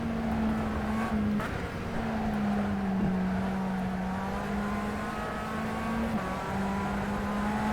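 Tatuus USF17 formula car lapping Atlanta Motorsports Park in rFactor 2, its engine a steady, high-pitched drone that holds its note with brief dips at gear shifts, a continuous loud in-car hum with no talking.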